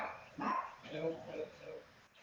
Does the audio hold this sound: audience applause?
no